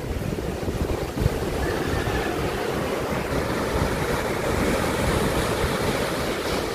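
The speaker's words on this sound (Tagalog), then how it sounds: "Medyo maliit-liit na yung alon." Steady wash of ocean surf with wind rushing across the microphone, a continuous broadband roar without speech.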